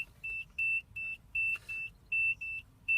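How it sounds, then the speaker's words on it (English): A truck's low air pressure warning buzzer sounds at 65 psi during an air brake check, repeating as short, evenly spaced, fairly quiet electronic beeps. "Air buzzer came on at 65 psi."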